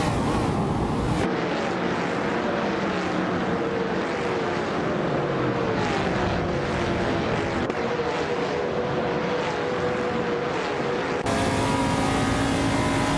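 A Plymouth Roadrunner engine drones steadily in a racing video game, holding a loud, continuous note that shifts pitch with gear changes and throttle across the whole stretch, with no voices over it.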